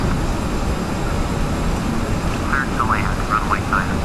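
Simulated engine roar of an ERJ regional jet on its takeoff roll down the runway at Fort Lauderdale in Flight Simulator X, a steady loud drone throughout with a voice talking over it.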